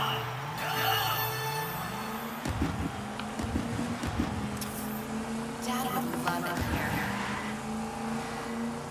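Engines of racing cars in the video game Hotshot Racing, played through a monitor speaker: a steady hum whose pitch rises and falls as cars accelerate and shift, mixed with game effects, moderately loud with no talking.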